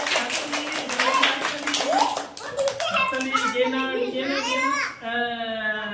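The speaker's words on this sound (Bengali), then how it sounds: "এই হাততালি দাও, হাততালি দাও, হাততালি দাও, সবাই হাততালি দাও।" Birthday party where a group of people clap while children's voices and chatter rise over them, the clapping loose and irregular, ending in high, sustained child vocalizations that could be singing or crying.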